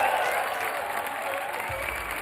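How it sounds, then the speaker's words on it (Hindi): A studio audience breaks into sustained, fairly dense applause for twin contestants on a televised talent show, steady clapping that carries through without a break. "जोरदार तालियां हमारे जुड़वाओं के लिए।"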